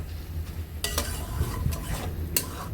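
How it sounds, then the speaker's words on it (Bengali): Ridge gourd curry with prawns is sautéed and stirred in a pan, giving a low steady sizzle with a few sharp scrapes of the utensil against the metal; no one talks. "কিছুক্ষণ কষিয়ে নিব আমাদের ঝিঙে তরকারিগুলো"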